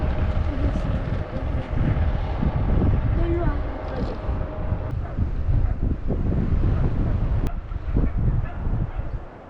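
Steady wind buffets the microphone at a riverside fishing spot where anglers are catching fish, a continuous loud rumbling roar filling the whole stretch with no pauses.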